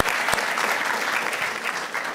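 A church congregation claps in strong, sustained applause, a thick continuous rattle of many hands with a few sharper claps poking through.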